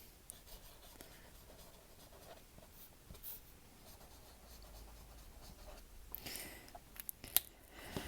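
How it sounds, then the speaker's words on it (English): A cheap discount-store pastel pen scratching across paper, a steady soft scraping stroke running throughout, close and quiet, with a few sharper ticks near the end and no talking. "It's also a bit hard to write with."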